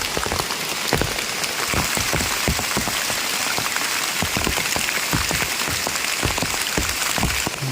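Steady rain falls on a forest in Mae On, Chiang Mai, a dense, even hiss with frequent sharper drops striking leaves and surfaces close by, continuous throughout with no voices.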